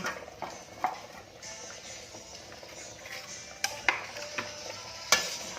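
A pot of fresh bamboo shoot curry bubbles and simmers quietly, with a few sharp clinks and knocks as the lid is lifted off and handled near the pot.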